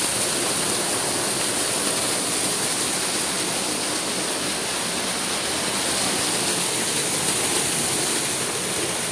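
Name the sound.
waterfall water flowing in a village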